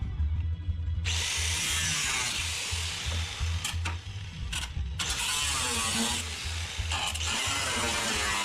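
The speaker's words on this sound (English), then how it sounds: "take the grinder and cut that firewall up a little bit more" An angle grinder cuts through the firewall of a 1969 International LoadStar truck, a loud sustained whine running throughout with a steady low mechanical hum beneath and brief bursts of louder grinding.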